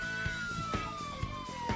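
Ambulance siren sound effect: a single wailing tone sliding slowly downward, with regular soft thumps pulsing beneath it at about two per second.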